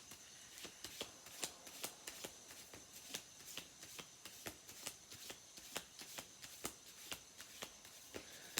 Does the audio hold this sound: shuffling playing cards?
yes